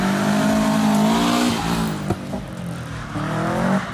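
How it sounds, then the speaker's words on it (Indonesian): A Subaru Impreza WRX STI's turbocharged boxer engine revs hard with a rumbling growl, dips briefly with a few sharp pops, then climbs again, close and fairly loud. "tentu aja suara khas mesin boxer turbo"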